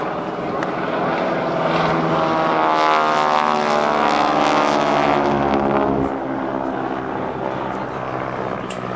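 GEICO Skytypers propeller airplanes diving in a bomb run at the 2008 NAS Oceana airshow produce a loud, continuous engine drone that swells and shifts in pitch as they pass, fading slightly toward the end.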